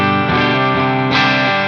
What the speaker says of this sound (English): I just really like how this pedal sounds with the amp slightly overdriven.